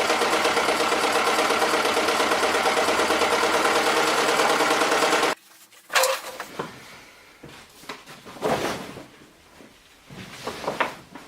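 A sewing machine stitches a sail in a fast, steady, loud mechanical whir for about five seconds, then stops abruptly, followed by scattered handling clunks, creaks and rustles.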